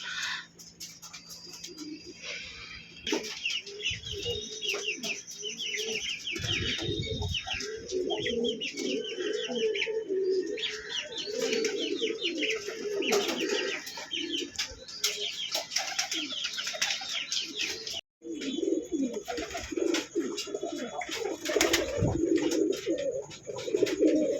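Domestic pigeons kept for sale coo steadily throughout, with bursts of wing flapping and occasional chirps, close and continuous with no talking.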